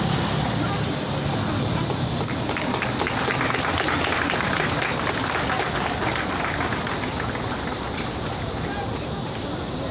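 Steady applause from an audience at a Korean medical residents' association briefing, a dense wash of clapping filling the room evenly for the full stretch, with crowd murmur beneath.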